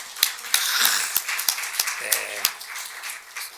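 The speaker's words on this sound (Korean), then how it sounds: "우리 찬양대에서 박수 한번 하겠습니다" Choir members at a church sermon give a round of applause, heard as a run of sharp, evenly spaced claps at moderate distance, mixed in with a voice talking over them.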